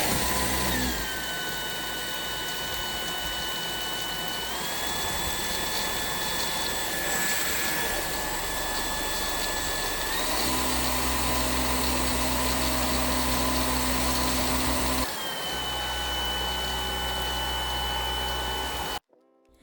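Cordless stick vacuum, a Samsung Bespoke AI Jet Ultra or Dyson V15, running continuously with a high motor whine that shifts pitch a few times as power changes, ending abruptly as it shuts off.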